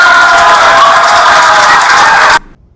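A large crowd at a political rally breaks into loud, dense applause mixed with cheering, sustained and close before stopping abruptly.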